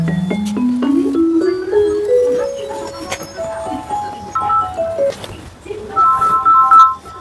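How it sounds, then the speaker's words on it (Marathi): A mobile phone ringtone plays nearby as a loud melodic tune of rising, stepping tones that repeats its phrases, with some background voices and noise underneath. "कोणाच काय पण वाजलाय?"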